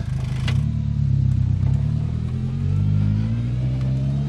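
A project car rolls slowly down a home driveway on its first drive after repairs, its engine rumbling steadily close by with mild revving and some clatter, and no voices.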